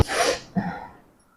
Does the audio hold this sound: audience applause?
no